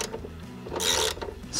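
Bolts on Jeep Wrangler JK rocker guards are snugged down with a ratchet, giving quick clicking ratchet strokes and a short louder burst of tool noise, close by with no talking.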